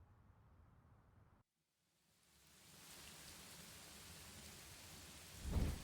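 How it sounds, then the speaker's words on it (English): A heavy downpour of rain on a dark Halloween night, a steady broadband hiss that cuts out briefly, then swells back in and holds loud and continuous, with a heavier burst at the very end. "I found my clothes starting to cling to my skin as a heavy downpour of rain began to soak me"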